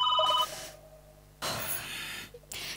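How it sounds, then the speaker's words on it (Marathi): A telephone rings in a comedy sketch, with a short burst of tonal ringing at the start, a pause, then louder broadband noise that could be audience laughter or stage sound. "फोनची रिंग."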